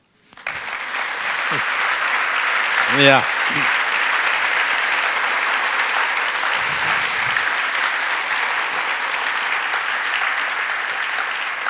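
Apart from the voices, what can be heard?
audience applause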